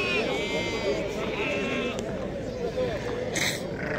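Sheep bleating at a crowded livestock market, a few wavering cries rising over constant nearby chatter and bargaining voices.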